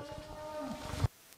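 A large Sahiwal bull at a dairy farm gives one loud, drawn-out moo that rises through the clip and cuts off abruptly near the end, with no talking.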